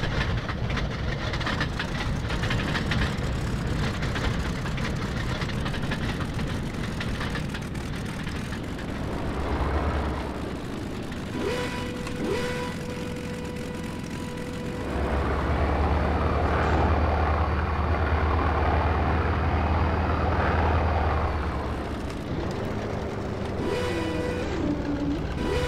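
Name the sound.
Fiat G.55 aircraft engine running before shutdown, IL-2 1946 video game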